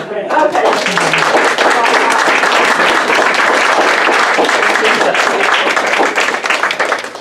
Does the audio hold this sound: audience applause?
yes